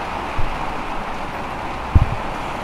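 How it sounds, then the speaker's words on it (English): Rain falling on a rainy day in Florida, a steady, even hiss of drops with a couple of soft, dull thumps from nearby, moderately loud and without speech. "it's a rainy day in Florida. Liquid sunshine is coming down."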